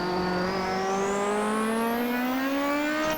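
The Zakspeed Capri Group 5 race car in Assetto Corsa screams as it accelerates, a loud, steady engine whine climbing continuously in pitch without any gear change.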